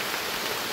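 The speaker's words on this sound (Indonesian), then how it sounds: "itu hujannya makin lebat" Heavy rain pours down in a forest, a dense, steady hiss with no breaks.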